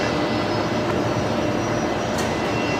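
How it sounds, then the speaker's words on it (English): Airliner touching down at Brisbane Airport after a long nose-high hold, a steady broadband engine and rolling roar heard from a distance outdoors, continuous and moderately loud with no talk. "Held that nose gear up for a long time. What a beautiful touchdown."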